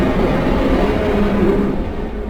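Ripper entity from the video game Doors produces a dense, roaring rumble that holds steady and then eases slightly toward the end, loud and unbroken with no voices.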